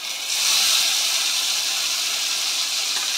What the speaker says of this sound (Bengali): এই যেটা পেঁয়াজ, আদা, কাজু আর রসুন যেটা পেস্ট করে রাখা হয়েছিল সেটা আমি কড়াইয়ে দিয়ে দিচ্ছি